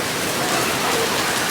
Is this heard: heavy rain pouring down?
yes